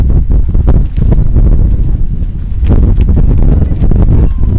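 Loud, constant wind buffeting the microphone at an outdoor women's college soccer match in Raleigh, a low rumbling roar with gusty pulses throughout.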